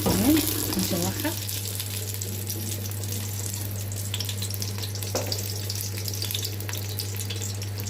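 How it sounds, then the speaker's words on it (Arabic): Beans sautéing in a spoonful of melted ghee in a pan give a steady, close sizzle that runs the whole time over a constant low electrical hum. "هنعمل تسبيكة الفاصوليا. هنحط معلقة من السمن. تمام. هنشوحها."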